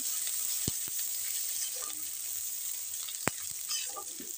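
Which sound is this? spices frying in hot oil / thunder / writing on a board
spices frying in hot oil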